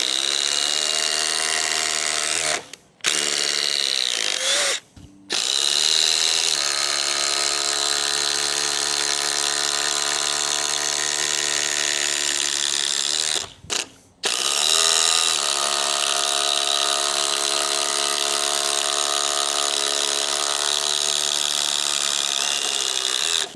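A new DeWalt cordless impact driver runs in long, steady high-pitched whirring bursts with a couple of short stops, loud and close with no talking.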